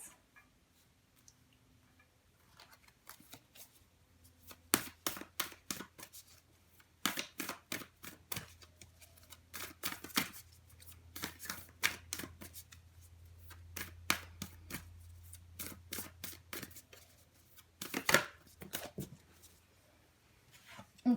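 Moonology oracle cards are shuffled by hand, bursts of crisp riffling and flicking snaps in irregular clusters, close and fairly quiet against a low background hum.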